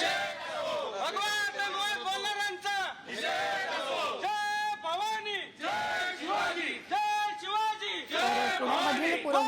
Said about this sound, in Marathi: आता पुरोहित समर्थकांकडून हा जल्लोष केला जातो